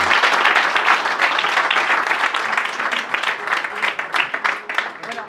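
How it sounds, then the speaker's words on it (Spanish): An audience at a talk about a new Andean basin park in Maule applauds loudly for Manuel, a dense, steady wash of many hands clapping close by that holds for several seconds without pause. "le pido a todos que le demos un fuerte aplauso a Manuel"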